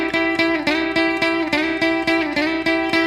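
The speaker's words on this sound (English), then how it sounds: "he lays out for the entire intro until we get to that blues slide lick" Electric guitar, a Telecaster, playing a blues slide lick: a run of sliding, bending notes with a steady picked pulse, played alone, up close and at a fairly strong level.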